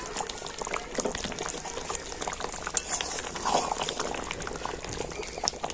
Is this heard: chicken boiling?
yes